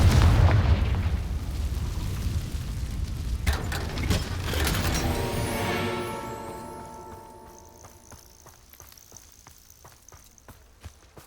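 Confringo explosion spell cast in the video game Hogwarts Legacy: a loud booming blast followed by crackling debris and a slowly fading rumble, with scattered sharp pops and ringing tones as it dies away.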